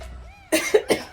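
Three sharp coughs in quick succession, close and loud, following a brief quiet stretch with a faint tonal sound.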